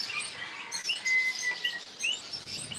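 Small birds in the Philippines chirp and tweet in quick, high, scattered calls, several overlapping at close to middle distance, with no talking heard.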